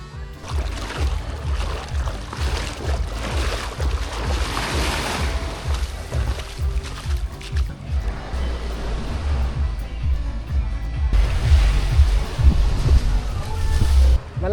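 Ocean waves and wind at a sheltered cove beach at a resort in Mariveles, Bataan, give a steady rushing surf wash with gusty wind noise on the microphone, swelling louder near the end, with no talking.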